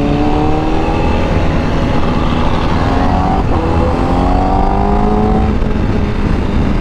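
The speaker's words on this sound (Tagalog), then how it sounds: "hindi lahat nakaka-appreciate ng tunog, ingay na pinoproduce ng bikes natin" A loud motorcycle engine drones steadily at close range with rising and falling revs throughout, alone with no talking.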